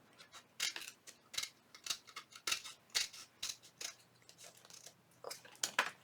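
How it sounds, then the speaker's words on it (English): Scissors trim a book page made of paper, with a string of crisp, close snips in an uneven rhythm, some quick bursts and some spaced apart, against an otherwise quiet background. "I'm going to go ahead and trim this right on off."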